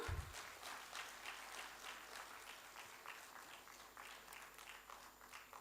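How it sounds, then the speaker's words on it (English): Audience applause at an academic meet on technical education, a faint, sustained wash of many hands clapping evenly from start to finish, with no speech over it. "The clap must go on."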